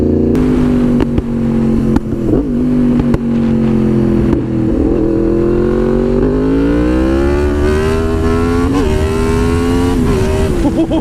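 A Yamaha MT-10 motorcycle accelerates hard, its loud engine note climbing steadily through the revs with brief dips at gear changes, close and continuous.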